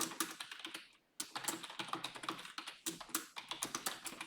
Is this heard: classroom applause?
no